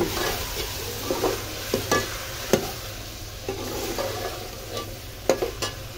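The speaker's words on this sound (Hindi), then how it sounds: "फिर इसमें मैं आलू डालने लगी हूँ, आलू कुछ डालती हूँ कुछ काट रही हूँ" Potatoes and spices sizzle and fry in a pan while a utensil stirs and scrapes in occasional knocks, close up and without talk.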